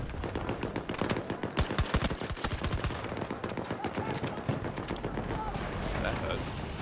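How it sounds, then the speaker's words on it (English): Gunfire in the video game Battlefield 2042: dense, rapid machine-gun bursts and overlapping shots throughout, fairly close and continuous, with a player talking over the shooting. "Stop shooting at me"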